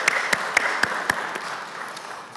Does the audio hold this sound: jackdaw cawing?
no